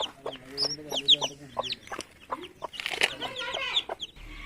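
Five chickens from the panchayat cluck and chatter close by in a home yard, a run of short, overlapping calls and squawks with brief pauses between bursts.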